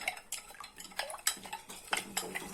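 A spoon clinking and scraping against a container while stirring borax into about 100 ml of lukewarm water, a quick series of sharp close taps and swirls with no talking.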